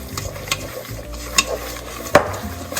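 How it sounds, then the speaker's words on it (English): Banana bread batter stirred in a bowl, soft thick swishing with a few sharper knocks of the spoon against the side, close and brief. "You wanna make sure that you mix it really good"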